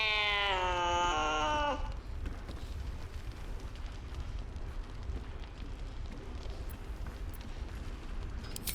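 A cat in Baldur's Gate 3 gives one long, drawn-out, strained meow lasting nearly two seconds at the start, loud and close, followed by a low crackling ambient rumble.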